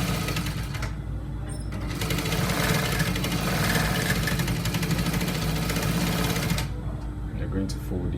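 A sewing machine stitches trouser fabric in a fast, steady mechanical rattle lasting several seconds, starting and stopping abruptly, with a voice talking over the whirring motor.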